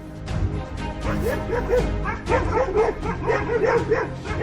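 A pack of stray dogs barks outdoors, repeated yipping barks and whimpers coming in quick uneven bursts, fairly close and loud, with no talk over them.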